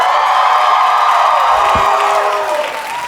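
A lively stand-up comedy audience in Brooklyn, New York cheering, whooping and clapping in a loud sustained wave that starts to fade toward the end.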